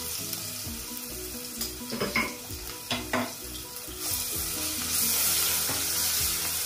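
Garlic with red chilli frying in oil in a pan for malabar spinach and red lentils, a close sizzle with utensil clinks and stirring scrapes that swells into a louder hiss, no speech.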